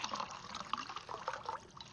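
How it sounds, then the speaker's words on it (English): Jamaican sorrel drink poured into a tall glass over ice, a steady close-up splashing and trickling stream running for the whole two seconds with no talking. "we're just going to pour in a tall glass over ice"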